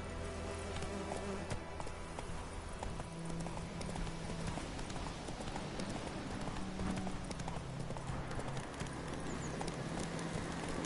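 In The Witcher 3, a game horse gallops steadily, its hooves striking in rapid rhythmic clip-clop over a continuous low game ambience, with no break in the pace throughout.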